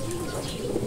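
Racing pigeons cooing at the loft as the first birds arrive, soft repeated low coos close by, with a voice speaking faintly underneath.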